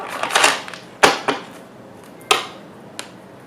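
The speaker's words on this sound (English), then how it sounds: "Sometimes people say it's really loud when I shuffle, but I have to shuffle." Tarot cards are shuffled in sharp, irregular bursts of riffling and snapping, several quick loud slaps and flutters spaced unevenly, close up with no talking.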